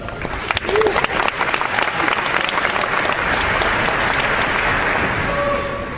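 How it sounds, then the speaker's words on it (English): Debate audience in a large hall breaks into applause, dense clapping swelling quickly and holding steady for several seconds with a few whoops and voices mixed in. "by all means restrain your applause, as I was rather alarmed to see you just did"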